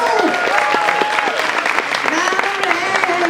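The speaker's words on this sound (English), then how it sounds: "Give her a round of applause, you guys." Theme park audience at a horror makeup show applauding steadily for a performer, dense sustained clapping from a crowd with cheers and voices mixed in throughout.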